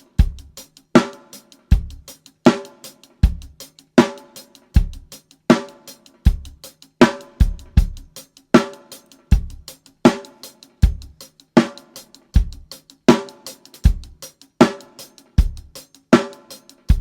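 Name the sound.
live drum kit recording mix in Logic Pro X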